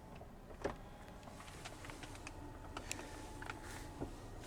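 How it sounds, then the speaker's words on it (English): Electric rear sunshade of a 2014 Kia Cadenza luxury sedan running inside the quiet cabin, a faint steady motor whir with small clicks and ticks over about four seconds. "You can also raise or lower your rear sunshade"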